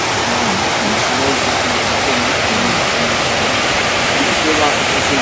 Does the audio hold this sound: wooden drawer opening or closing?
no